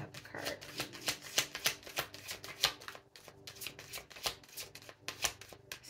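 Tarot cards being shuffled at close range in a steady run of quick riffling bursts, with no talking over them.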